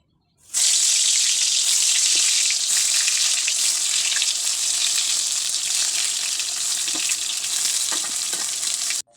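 Eggplant slices fry in hot oil with a loud, steady, hissing sizzle that starts suddenly and holds unbroken, dotted with faint pops and crackles, until it stops abruptly at the end.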